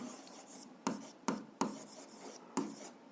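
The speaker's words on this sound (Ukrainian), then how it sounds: "Записуємо," A pen writes algebra equations on paper, with soft continuous scratching broken by four sharp tapping strokes, close and quiet, and no talk.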